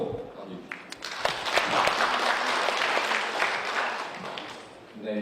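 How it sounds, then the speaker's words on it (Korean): Audience at a symposium on the Daedeok research and development special zone applauding, a sustained wave of clapping that swells quickly, holds dense and loud for several seconds, then tapers off. "박수로 맞이해주십시오."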